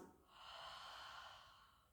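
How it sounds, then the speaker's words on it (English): A single soft, breathy exhale through the mouth, rising and fading over about two seconds, close and quiet. "And then exhale through the mouth"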